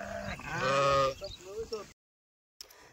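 Sheep bleating close by on a farm where the flock is being dosed with medicine, a few wavering cries in quick succession followed by a brief silence and faint noise.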